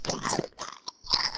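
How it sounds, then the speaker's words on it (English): Loud, close crunching and biting noises picked up by a gaming headset microphone during an online match, in several bursts with brief pauses, with no speech over them. "stop chewing"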